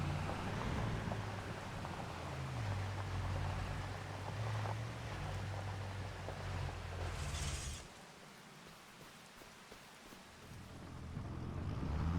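A truck in the video game Farming Simulator 25 rumbles with a steady low engine drone for about eight seconds, then cuts out, leaving quieter background ambience before a faint rise at the end.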